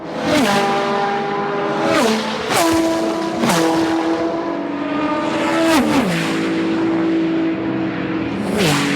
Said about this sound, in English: There goes the Ferrari.